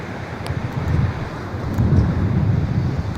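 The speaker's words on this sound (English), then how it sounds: "Yeah, wind is definitely picking up now." Strong stormy wind blows at Lido Beach, a rough, steady roar buffeting the microphone, with surf rushing underneath.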